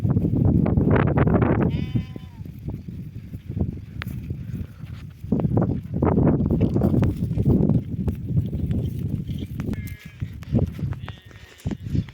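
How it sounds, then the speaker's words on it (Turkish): Several sheep bleat repeatedly, some close and loud, others fainter, with overlapping cries and shuffling movement throughout. "Bugün 4-5 tane koyun koca geliyor"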